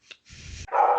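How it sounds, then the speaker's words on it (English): A dog barks indoors in a quick, sharp burst, a short yip followed by a louder, rougher bark close by. "There's the dog."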